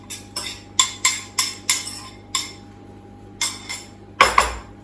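Courgette stuffing stirred in a pan, the utensil striking the pan in a quick, uneven run of about a dozen sharp metallic clinks, close and clear with no voices.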